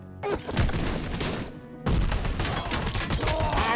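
Heavy gunfire in RoboCop: Rogue City, loud close bursts with booming impacts and crashes, a short lull midway before another dense volley.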